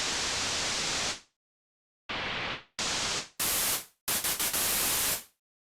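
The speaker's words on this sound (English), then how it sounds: "Set this to white noise." Synthesizer white noise for a riser, harsh full-band static switched on and off in five bursts, the first long, then shorter chunks with brief stutters, each cutting to silence.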